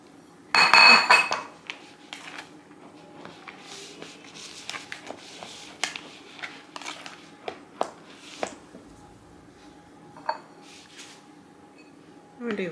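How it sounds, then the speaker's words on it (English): A metal rice spoon clinks and scrapes against a pot while cooked rice is dished out, a loud clatter at first, then scattered knocks and scrapes, close and alone. "Using my rice spoon."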